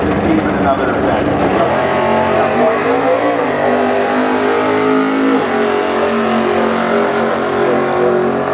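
Precision Turbo Pro Mod drag race cars, including a Mustang, roar loudly at full throttle, a dense sustained engine blast that shifts pitch as they accelerate down the strip, with a commentator's voice partly mixed in.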